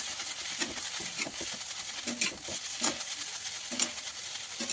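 Maggi noodles with masala seasoning cooking in a pan, a steady close sizzle with soft scraping and stirring taps throughout, no talk.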